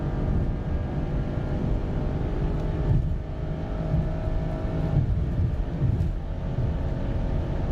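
A Porsche Cayenne GTS V8 rumbles with a steady, deep, throaty exhaust note, holding a continuous loud drone with slight swells and no talk.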